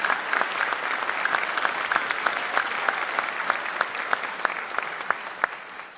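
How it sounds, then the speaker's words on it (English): An audience at a drum and bugle corps event hosted by the Lancers applauds with steady, dense clapping and a few louder individual claps, fading slightly near the end. "Let's give a round of applause."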